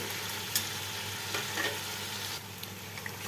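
Meat curry with cardamom, cloves and cinnamon fries steadily in a pan, a soft continuous sizzle with a few brief stirring scrapes, moderately quiet and close, with no voices.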